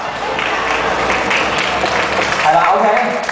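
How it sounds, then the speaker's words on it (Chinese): An audience at a Lunar New Year show bursts into applause, a dense, continuous patter of clapping from many hands that holds steady for a few seconds and swells slightly toward the end. "就俾掌聲嚟聽佢啦。"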